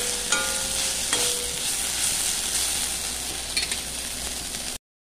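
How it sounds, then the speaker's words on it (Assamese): Fish frying in a pan with dried bamboo shoot, chili and fenugreek seeds, giving a steady loud sizzle with stirring scrapes throughout, then cutting off abruptly near the end. "মোৰ শুকান খৰিছা জলকীয়া আৰু মিঠিগুটি দি বনোৱা মাছৰ ভাজি হৈ গৈছে"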